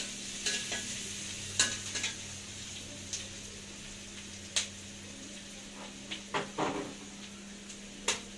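Green chilies and onion fry in a pan with a steady, soft sizzle, broken by scattered sharp clicks and ticks of stirring against the pan over a low, constant hum.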